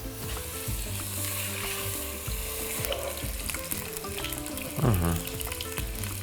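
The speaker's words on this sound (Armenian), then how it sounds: "Թող մի կողմը տապակվի, կարմրի, կշրջենք" Meat pieces brown in a pot with a close, steady sizzle and crackle. A short scraping clatter of stirring cuts in about two-thirds of the way through, with no speech.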